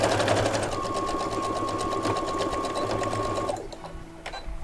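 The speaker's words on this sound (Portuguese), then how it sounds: "Voltei da máquina, fiz a costura pelo lado do direito." A sewing machine runs a fast, even stitching rhythm through fabric for an origami-style bag, loud and close, then slows and stops near the end.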